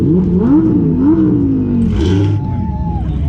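A new Ford GT supercar revs in a couple of rising pulls, then drops to a lower throaty drone, with crowd chatter nearby at a charity car gathering.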